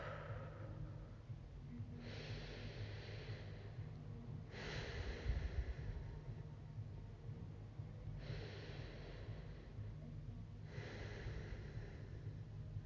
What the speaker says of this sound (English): Just taking a few breaths here. Inhaling and exhaling.